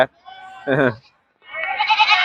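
Goats bleating at a livestock market, several short wavering calls close by, loud and separated by brief silences, with a voice mixed in.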